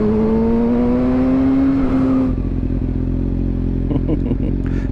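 Kawasaki Ninja motorcycle engine rising in pitch under acceleration while riding, loud and close with wind rush, then shifting to a lower steady drone with some clattery mechanical noise.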